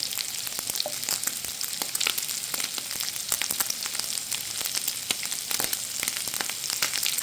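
Fat melts and sizzles steadily in a pan as the base for a meat gravy, a dense, crackling fry with frequent sharp pops, close and continuous with no talk.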